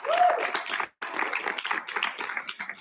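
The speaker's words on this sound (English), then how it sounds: "We should give them one more big round of applause." An audience applauds at a TED Talks event, giving a dense patter of many hands clapping that briefly drops out, then resumes and fades slightly.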